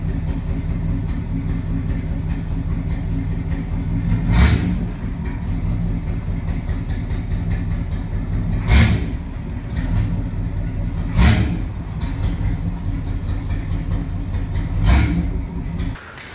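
Cadillac 390 V8 in a lowrider project car, running with the exhaust cut off: a steady, rough low idle rumble broken by four short revving bursts at uneven intervals, close and loud.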